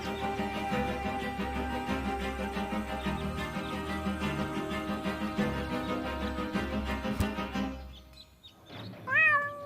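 Cat meows from the video game Deponia, a few short rising cries heard near the end after a dense stretch of game music and effects fades out.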